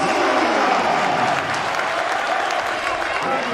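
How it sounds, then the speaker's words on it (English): A crowd at a boys' high school basketball game roars and applauds after a buzzer beater at the end of the first quarter, a loud, sustained wash of cheering and clapping with voices mixed in. "Jack Wasserback fires up the crowd with the buzzer beater at the end of the first quarter."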